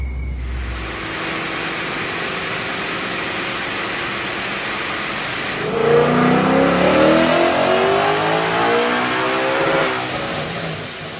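A car engine idles steadily, then revs up loudly for several seconds before settling back down, heard close by with no talking.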